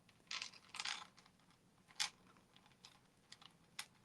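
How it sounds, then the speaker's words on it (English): A boot chain being cut with pliers: a few faint, scattered crunching snips with quiet gaps between them, close but low in level. "I had to go out and get these plier thingies, and it took a lot of strength to get that cut."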